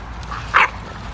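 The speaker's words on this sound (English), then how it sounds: "Ken, why you barking, bro?" A single short dog bark, fairly close, over a low background hum.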